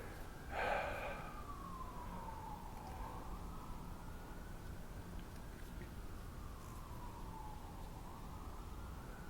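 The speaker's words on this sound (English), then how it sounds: "Did a siren just go by?" A faint emergency vehicle siren passes somewhere in the distance, one long wailing tone slowly rising and falling for several seconds under steady background noise, with a brief louder burst near the start.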